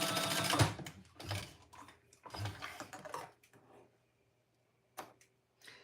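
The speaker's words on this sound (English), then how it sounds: "Although I am going to baste this down so it" A domestic sewing machine bastes down a bag strap in short bursts of rapid stitching, close and fairly quiet, separated by pauses and small handling clicks.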